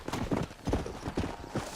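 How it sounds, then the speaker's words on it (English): Horse hooves clip-clop in a steady rhythm across the ground in the Red Dead Redemption video game, fairly quiet and without talk. "Hit your horse and wait for me by the stable."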